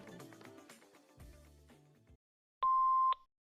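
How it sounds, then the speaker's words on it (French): After some muffled background sound and a moment of silence, a single clean electronic answering machine beep sounds for about half a second. "laisse-nous un message après le bip"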